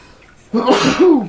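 A single sharp sneeze bursts out after a quiet moment, loud and close, with a throaty trailing tail.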